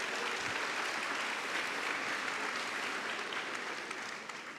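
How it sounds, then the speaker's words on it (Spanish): An audience at a management conference applauds to welcome a speaker, continuous even clapping heard from a distance, steady throughout and tapering slightly at the very end. "lo recibimos con un aplauso"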